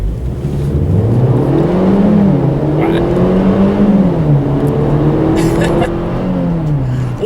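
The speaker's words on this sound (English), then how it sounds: "let me do a quick little acceleration here, see how quickly we can get the CLA250 here up to speed" A 2017 Mercedes-Benz CLA250 accelerating hard, its engine note climbing through gears with rising then dropping pitch sweeps, loud and close from inside the car, with road and tire rumble beneath and a voice briefly heard.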